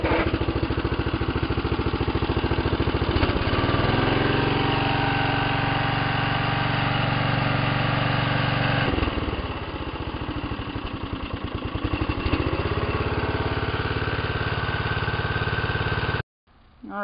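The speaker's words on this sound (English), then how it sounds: "it's like a 1987 snapper mower, and" A 1987 Snapper mower's small engine runs steadily for a long stretch, close and loud, dipping and recovering mid-run before cutting off abruptly near the end.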